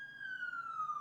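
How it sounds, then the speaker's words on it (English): A single siren tone, likely from an emergency vehicle, holds one steady high wail that drifts slowly downward over a second, fairly faint, with no talk over it. "nice siren"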